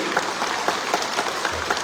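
Dense applause from a crowd at a political gathering, many hands clapping steadily with a few sharper individual claps standing out, loud and sustained throughout with no clear talking.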